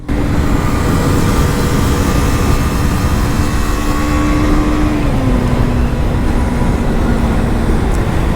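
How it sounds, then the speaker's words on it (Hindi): A 2022 KTM RC 125 motorcycle being ridden: a loud, continuous engine note whose pitch glides slowly and dips slightly midway, under a heavy roar of wind and road noise. "The exhaust note is also good, like kind of okay, not really बेसी, ठीक ठाक एग्जॉस्ट नोट है।"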